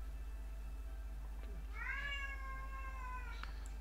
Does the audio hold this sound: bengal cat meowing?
yes